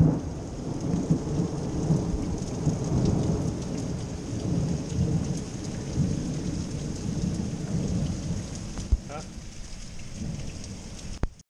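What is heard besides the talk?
thunder and rain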